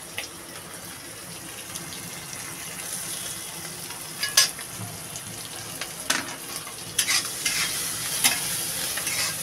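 Shrimp fry in a pan, with a constant close sizzle broken by scraping stirs and sharp clinks of a utensil against the pan; no one speaks.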